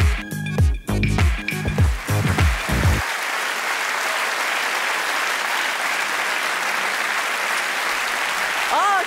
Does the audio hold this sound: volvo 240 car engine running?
no